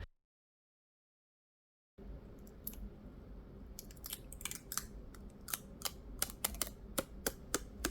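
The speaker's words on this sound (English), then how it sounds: "let's peel off the stickers together right here" Stickers peeled off an object in a quiet indoor setting, giving a run of crisp, close tearing and clicking snaps that grow denser toward the end after a brief silence at the start.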